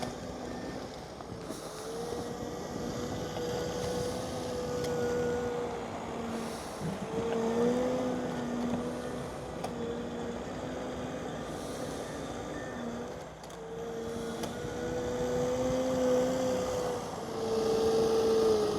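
A Pisten Bully 400 snow groomer pushes snow along a snowmobile trail, its diesel engine droning steadily with rising and falling revs and clanking tracks, close and loud.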